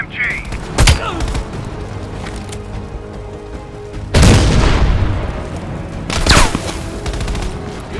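Machine gun fire and explosions in Call of Duty: Black Ops Cold War, a constant battlefield rumble broken by heavy booms and bursts of fire at intervals, loud and close, with game voices shouting over the din.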